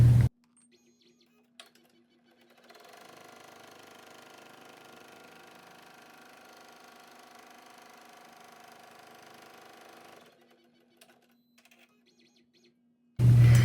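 An embroidery machine stitches a mask placement line in the hoop, a steady mechanical whir running for about seven seconds with quiet gaps before and after and sharp clicks at the very start and end.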